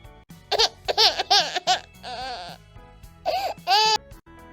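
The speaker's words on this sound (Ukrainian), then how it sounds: "Ой, послухайте, малята, наче хтось плаче." A voice cries out in a series of short, wavering, bleating wails with brief pauses between them, heard close and clear in an indoor setting.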